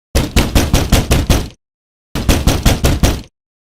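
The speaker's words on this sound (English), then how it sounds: "I heard loud banging coming from the hallway." Two fast volleys of about six heavy thuds each, like fists pounding hard on a locked door, loud and close with a short silence between the bursts.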